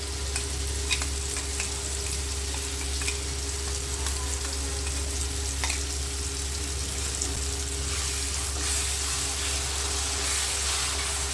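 Green masala paste frying with browned onions in a pan, a loud steady sizzle and hiss with light scraping stirs, close up under a constant low hum, no talk.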